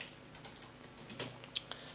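Typing on a computer keyboard while entering an email title, a quiet run of light, irregular key clicks with a few sharper taps near the end, no voices.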